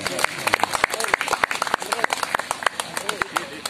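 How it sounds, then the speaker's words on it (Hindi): An audience at a priest's golden jubilee celebration claps in a brisk, steady patter of sharp individual claps that carries through the whole stretch, with voices mixed in. "50 साल पहुंच के हो काम करते हैं तो ताली में दो"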